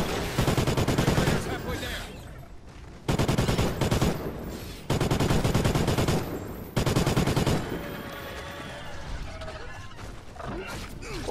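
Big gun firing in a video game, loud dense bursts of rapid automatic fire in several sustained volleys with brief gaps between them, followed by quieter mechanical clatter and rumble.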